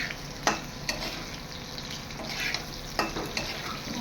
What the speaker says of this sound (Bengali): কড়াই নিলাম, আলুটা ভেজে নেব।